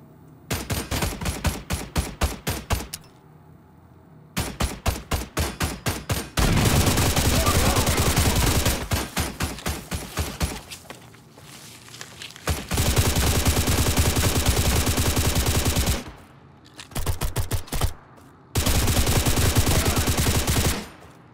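Guns fire in the video game Stalcraft during a firefight: bursts of rapid automatic fire, loud and close, come in several long volleys broken by short pauses.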